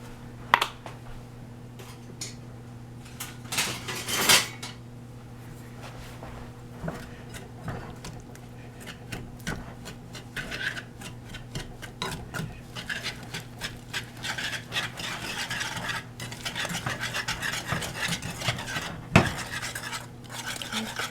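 A utensil stirs and scrapes cinnamon coffee cake batter in a bowl, a continuous scratchy mixing broken by occasional sharper clinks against the side, close up and steady with no voice.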